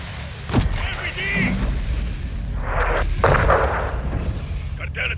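RPG rocket explosion in Call of Duty Modern Warfare 2 during a Mexico firefight near a church: one sharp, heavy boom early on, followed by rumbling battle noise with radio voices talking.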